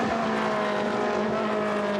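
GT race cars running on a circuit in a qualifying session, with a loud, sustained engine drone holding steady pitches and thick, close mechanical noise throughout.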